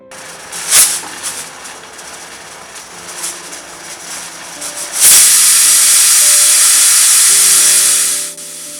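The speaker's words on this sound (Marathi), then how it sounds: "कुकरची पहिली शिट्टी काढून घ्या" A pressure cooker of rice and dal on a stove lets out its whistle partway through, a sudden loud, sustained steam hiss that follows a few faint kitchen knocks and clinks.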